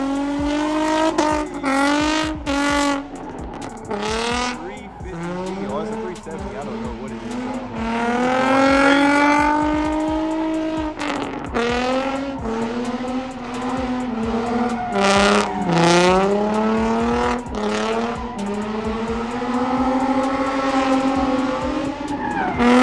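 Cars rev hard and spin their tires through burnouts and slides at a Colorado car meet. Engines rise and fall loudly over squealing rubber in repeated bursts, close by.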